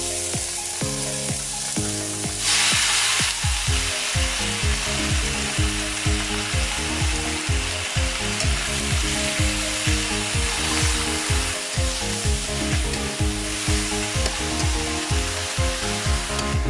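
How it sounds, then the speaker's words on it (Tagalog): Pork sizzles loudly and continuously as it fries in a pan with onion, with crackling and occasional stirring scrapes under the steady hiss. No one speaks. "Okay guys, ilagay ko na itong pork."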